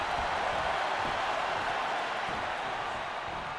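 Wrestling arena crowd in the video game WWE 2K25 cheering as a steady, loud wash of roaring noise with no distinct breaks, continuous throughout.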